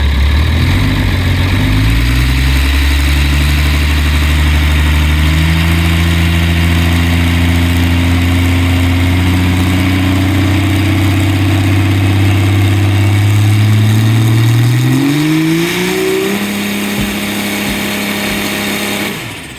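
A ProMod Duster drag car's engine idles with a deep, loud, steady rumble close by, then revs, its pitch climbing near the end before easing back.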